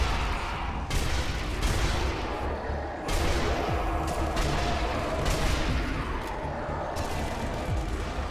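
Gunfire in Sniper Elite Nazi Zombie Army 2 as a zombie is shot: repeated sharp shots and volleys crack out every second or so over a steady battle din, fairly close and loud.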